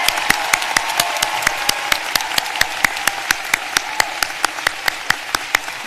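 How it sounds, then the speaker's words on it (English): Commencement audience applauding new doctors of clinical psychology at a graduate ceremony. A single nearby clapper keeps a steady, rapid beat over a softer wash of crowd clapping, without pause. "May I please have a round of applause for our doctors of clinical psychology."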